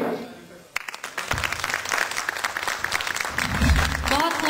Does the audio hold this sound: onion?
no